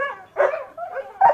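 A dog working through scent detection training gives three short bark-like bursts, fairly close and moderately loud, with brief gaps between them.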